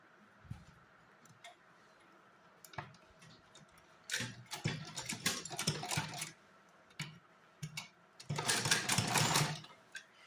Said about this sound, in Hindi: फिर देखिए हम इसको यहाँ से रखेंगे और पहले सिलाई लगा के लॉक करेंगे।